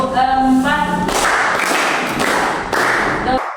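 Children in a classroom clap in unison for a counting clap game, a couple of loud sustained bursts following a short sung or spoken tone, close and energetic.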